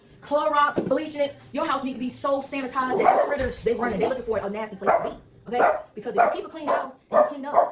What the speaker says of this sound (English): he go to barking like a madman